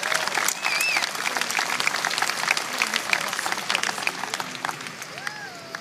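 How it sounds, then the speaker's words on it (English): A large crowd at the San Francisco State University 2012 commencement bursts into sustained applause, dense clapping with scattered cheers and whoops that slowly tapers off. "Give them a round of applause, please,"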